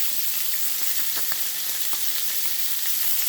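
Sliced steak for a Philly cheese wrap sizzling steadily in a hot pan, a dense, close frying hiss with a few faint clicks and stirring touches, no voices.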